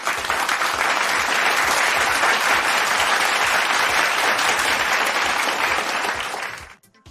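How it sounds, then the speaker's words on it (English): A round-of-applause sound effect played for a donation, dense loud clapping held for about six seconds before it cuts off abruptly. "Let me go ahead and give you your respect and round of applause."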